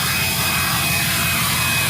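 A Ram TRX with a swapped-in Cummins turbo diesel and dual exhaust roars loud and steady up close, a dense continuous engine rumble with broad exhaust noise.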